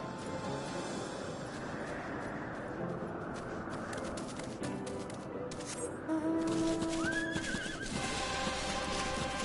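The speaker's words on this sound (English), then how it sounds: "you're riding a red horse" A red horse mount in Final Fantasy XIV neighs clearly near the end, a rising whinny over a busy background of birds, hooves and game ambience.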